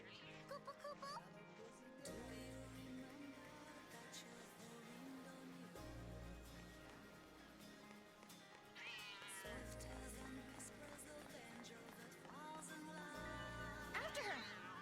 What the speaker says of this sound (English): But that's just a cat.